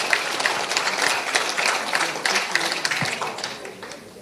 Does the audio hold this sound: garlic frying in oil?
no